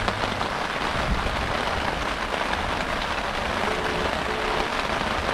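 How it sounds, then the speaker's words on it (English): Steady rain falls outdoors at Rapid Bay, a loud, dense, even hiss of drops with no breaks and no voices. "Excuse the background noise. It was actually raining"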